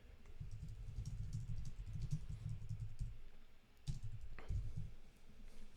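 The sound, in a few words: computer keyboard key press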